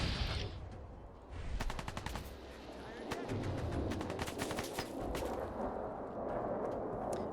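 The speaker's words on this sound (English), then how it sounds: "Oh, they're not shooting at me. They're shooting at each other." Gunfire from NPCs shooting each other in Fallout 4, bursts of rapid automatic shots and single cracks repeating over a rumbling background, moderately distant, with voices in the mix.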